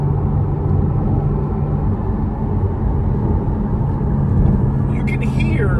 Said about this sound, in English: I want you to listen for a minute how loud this car is inside.